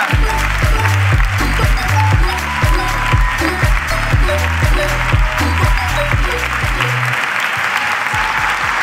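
A live audience claps and cheers throughout a Spanish comedy podcast recording, loud sustained applause with a rhythmic clapping beat running under it for several seconds before it trails off.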